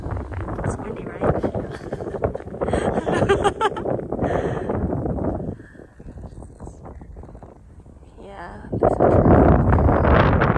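Strong gusts buffet the microphone on a high, windy hilltop hiking trail in an open space preserve, loud and rumbling in waves with a brief lull, while a person talks over it.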